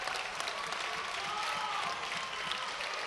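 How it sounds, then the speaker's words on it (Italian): Audience applause at a Serie C FVG basketball game in Friuli between Bluservice Fagagna and Il Michelaccio San Daniele, a steady even clapping from the crowd during a substitution, with a commentator's voice faint beneath it. "Con Panotti intanto applaude tutto il pubblico, grande ex."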